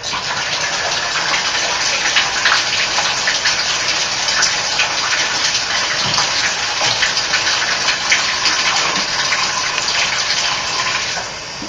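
Water gushes steadily as it is flushed up through a pipe and sprays out of a shower head during a bathroom remodel, a loud continuous rushing hiss with no pauses.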